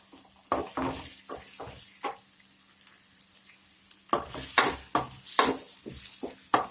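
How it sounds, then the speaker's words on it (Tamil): Onions and curry leaves sautéing in a pan for kara kuzhambu, a soft sizzle broken by irregular scraping and clinking stirring strokes, busier and louder toward the end. "வெங்காயம் நல்லா வதங்கணும்."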